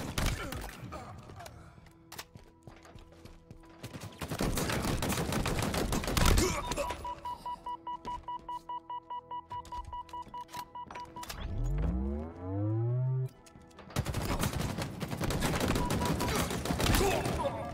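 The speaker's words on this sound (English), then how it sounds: "Machine guns suit you, Spartan." Heavy machine gun fire in a Halo multiplayer Slayer match on the Bazaar map comes in long, dense loud bursts at the start and end, with tonal game effects and announcer voice lines between them.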